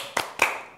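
Children clap their hands twice in quick succession, two sharp, close claps with a short reverberant tail.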